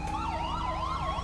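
An ambulance siren wails up and down continuously in GTA 5, a loud, near, rapidly cycling two-pitch sweep over engine-like rumble, with no talking.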